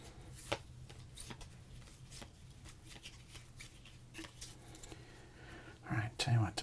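Baseball cards from 1992 Score and 1993 Fleer packs are shuffled and handled up close, with soft papery rustles, slides and flicks in quiet, intimate detail, plus a brief louder shuffle near the end.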